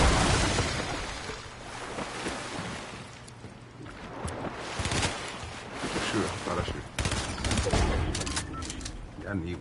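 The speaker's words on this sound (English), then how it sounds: "Who's shooting at me, bruh?" Gunfire rattles through a no-build duo match in a video game, with repeated bursts and shots mixed into a busy game soundscape while players talk over it.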